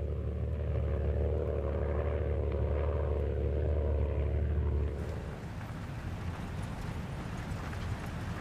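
A Fieseler Fi 156 propeller aircraft on a combat reconnaissance mission on the Eastern Front, a steady droning engine and propeller hum that holds loud for several seconds, then drops to a thinner, noisier rumble.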